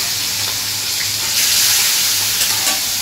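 Fish pieces fry in hot oil in a wok, a loud, close, continuous hissing sizzle that swells briefly midway with faint crackles on top.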